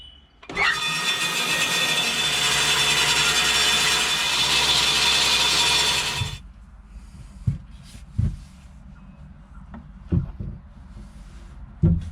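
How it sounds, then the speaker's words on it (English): A bandsaw cuts through a piece of timber, a loud sustained whining rasp for about six seconds, followed by quieter knocks and handling of the wood. "let's go find a bandsaw, see what damage we can do"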